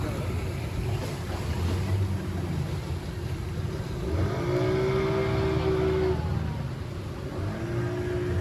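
A motorboat passes on the water near Pondicherry, its engine droning and rising in pitch as it draws close, with wash and water noise around it and no talking.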